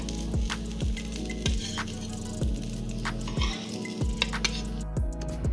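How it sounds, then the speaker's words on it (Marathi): Uttapam roasting on its second side in a pan, with steady sizzling and frying under repeated rhythmic scraping or pressing sounds from a spatula, close and fairly loud, no talk. "दुसरी बाजू थोडीशी आपण या शेकून घ्यायची आहे"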